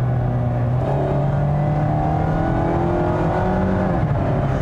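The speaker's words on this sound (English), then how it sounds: "There is a noticeable whine in the engine when you're really wringing out this powertrain." A 2020 Mazda MX-5 Miata RF four-cylinder engine with automatic transmission revs hard toward 7,500 RPM, climbing in pitch with a distinct whine, steady and close, then eases off near the end.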